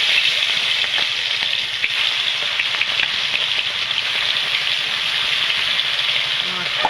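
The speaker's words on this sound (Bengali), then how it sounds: "তেলটা গরম হয়ে গেছে, মাছগুলো ভেজে নেব।" Tilapia fish fry in hot oil with a dense, steady hiss and sizzle that continues without a break at a constant level and stays close.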